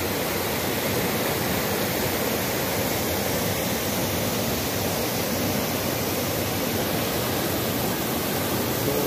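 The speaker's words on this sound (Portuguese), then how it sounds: "Tem uma esteira d'água aqui muito bonita." A waterfall cascade at the Sete Quedas falls, a steady, dense, loud roar of rushing water that holds unbroken from start to finish.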